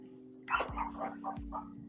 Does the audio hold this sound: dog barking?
yes